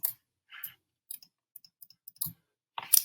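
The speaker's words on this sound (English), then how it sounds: "I start over by clicking that one" A computer mouse gives a scattered series of sharp, short clicks, some single and some in quick pairs, close and dry with near silence between them.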